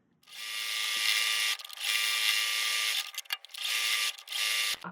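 A sewing machine stitching fabric for a sheep-themed book cover, whirring in several close bursts of rapid stitching separated by short pauses.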